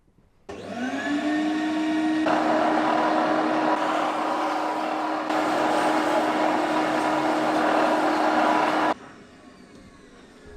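A power sander working on wood to take out saw marks inside a Peugeot Boxer camper van conversion, a steady loud whine that starts abruptly, shifts load partway through and cuts off sharply, heard alone.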